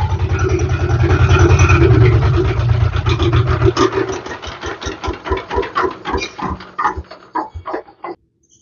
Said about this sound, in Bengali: কনকনা ইঞ্জিনের টকটকি সাউন্ড